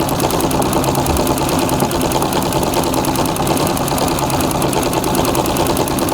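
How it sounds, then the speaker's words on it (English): A sewing machine runs at its lowest speed setting for free motion quilting feathers, a steady, loud, fast mechanical chatter that continues without a break throughout. "When I free motion quilt on that machine, I keep it at its lowest setting."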